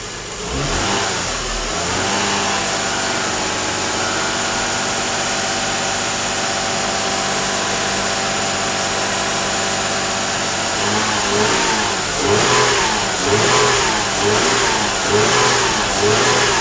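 A 2004 Lexus IS300 engine runs after a timing belt service, idling with a steady, loud close hum that swells into a few light revs toward the end, with no talking.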